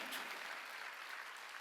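A church congregation claps together during a Korean Sunday worship service, a soft, steady patter of many hands heard at a distance, with no talk over it.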